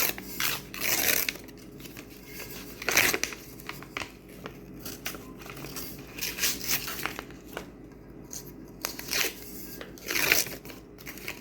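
Sublimation paper is torn and peeled off a freshly heated tumbler, giving close, irregular bursts of ripping and crinkling separated by short quiet gaps.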